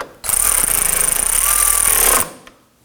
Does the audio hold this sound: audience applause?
no